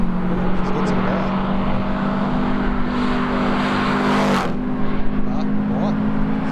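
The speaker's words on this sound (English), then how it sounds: "And WRX now climbing the hill." A Subaru WRX rally car climbs the hill at the Legend of the Lakes hillclimb, its engine a loud sustained drone that rises in pitch near the end, with a commentator's voice over it.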